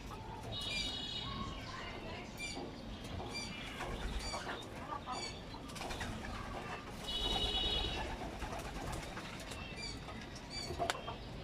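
Pigeons in a loft coo and shuffle, with soft wing flaps and fluttering over a low, busy background, moderately close but faint overall, with a voice murmuring now and then.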